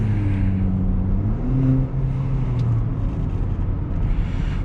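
Cabin drone from the 2-liter engine of a 2023 Haval H6 GT in race mode, a low steady exhaust hum that briefly shifts pitch before fading into broad road noise.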